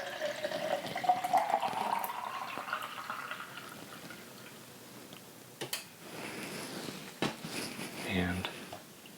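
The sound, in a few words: pouring liquid out of a film developing tank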